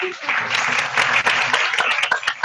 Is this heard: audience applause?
yes